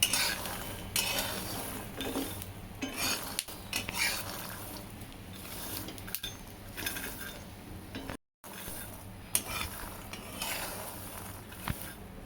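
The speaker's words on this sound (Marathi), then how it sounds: "सगळ्या शेंगा चटचट आवाज करत भाजतात आणि सुंदर भाजतात।" Peanuts dry-roasting in a pan, small crackles and pops mixed with scraping stirs and the clatter of a spoon against the metal, with a brief dropout partway through.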